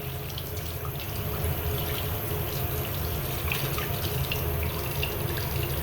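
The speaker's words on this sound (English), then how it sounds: "Turn the water on." Tap water runs in a steady, close splashing stream over a ThruNite Archer 2A V3 flashlight, with no pauses and no voices.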